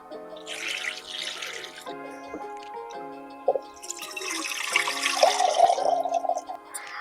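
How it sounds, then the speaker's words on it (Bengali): Peeled white jackfruit seeds are washed in water, with intermittent splashing, dripping and sloshing close by, alternating with quieter moments and a burst of more vigorous rinsing near the end. "এখন এগুলোরে ভালো ভালো ধুয়ে লম"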